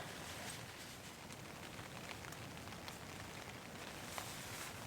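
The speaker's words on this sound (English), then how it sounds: "It's raining pretty consistently again." Rain falls steadily on a tent during a winter storm camping trip, a soft, even patter with scattered individual drops, quiet and continuous with no talking.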